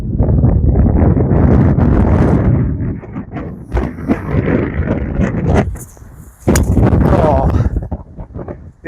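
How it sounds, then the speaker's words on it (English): Gusty wind on a flat golf course buffets the microphone in heavy rumbling bursts, easing briefly before a fresh strong gust; someone talks in between. "The gust of wind got me there."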